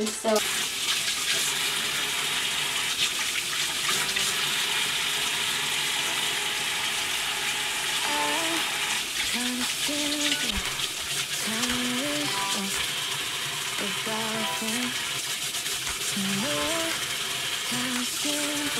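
Water runs steadily from a sink faucet while makeup brushes are washed, a loud continuous splashing hiss with a television show playing faintly underneath.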